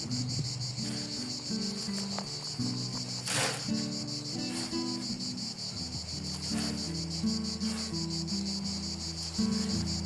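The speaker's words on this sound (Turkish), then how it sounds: "amma ötüyor bu Ağustos böcekleri be" Loud, continuous buzzing drone of cicadas filling the air, steady and unbroken throughout, with no talking.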